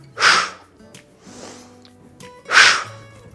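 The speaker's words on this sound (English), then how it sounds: "I know you hear me breathing." Two loud, sharp breaths during exercise, roughly two seconds apart, forceful exhales with a quieter breath between them, close up and with no talking.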